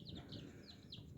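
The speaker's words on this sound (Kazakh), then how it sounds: "Мінекей бөдененің балапандары." Quail chicks in a brooder give a series of thin, high chirps, about four or five short peeps at a steady rhythm, faint and close against a low hum, with a brief knock near the end.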